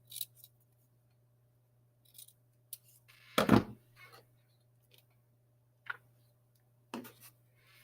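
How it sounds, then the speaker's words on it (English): Scissors cut a shape out of paper in sparse, crisp snips, with one louder cut near the middle, heard close over a faint steady hum without talking. "But I want to cut another piece out of that."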